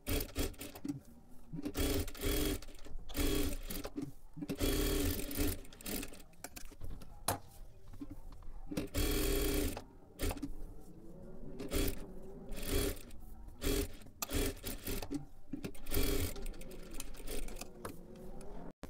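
A sewing machine stitching the lining onto a blouse runs in steady whirring bursts with short pauses between them, close and fairly quiet, with no talk over it.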